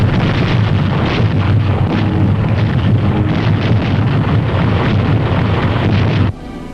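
WWII bombers saturate an enemy-held junction of the Rangoon-Mandalay Railroad in Burma, a dense continuous roar of engines and bomb blasts with steady rumble throughout, dropping off abruptly near the end.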